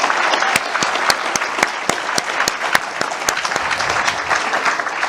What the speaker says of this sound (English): let's give that committee a round of applause for 10 years of putting this together